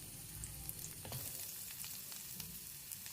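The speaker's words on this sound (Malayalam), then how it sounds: "ഇനി ഇതിലോട്ട് ഉള്ളി ഇട്ടിട്ട് നന്നായി വഴറ്റുക." Onions sautéing in coconut oil in a cheenachatti (Kerala wok) give a faint, steady sizzle with occasional soft stirring scrapes, close by with no voices.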